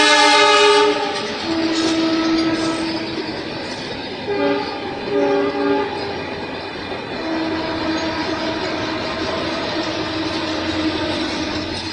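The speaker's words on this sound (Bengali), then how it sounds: "ট্রেনের আওয়াজে আমাদের সবার আওয়াজ চাপা দিয়ে দেয়, তাই না?" A passing train blasts its horn loudly at the start, then rumbles on with steady wheel clatter and squeal, close and continuous, with no voices.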